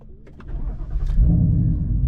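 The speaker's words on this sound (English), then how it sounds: "I'm gonna go ahead and start the car." A Ford Mustang GT (S550) engine cranks briefly on a cold start and catches, then settles into a rough, loud idle close by, rumbling low and steady.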